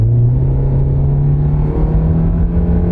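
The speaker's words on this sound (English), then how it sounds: "We're going 29, we'll step on it." Hybrid car with a 1.6-liter non-turbo engine accelerating from about 29 mph, heard from inside as a loud, steady engine drone rising slightly in pitch, with road rumble underneath and no talk.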